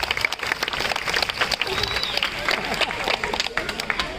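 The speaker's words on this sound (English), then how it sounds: "Let's give a round of applause to Midnight." Audience applause and crowd noise at a night safari show in Singapore after a trained owl's flight, steady broadband clapping that continues for several seconds with a murmur of voices mixed in.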